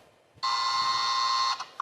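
A game show buzzer sounds once, a loud, steady electronic tone held for about a second before cutting off, followed by a faint short blip.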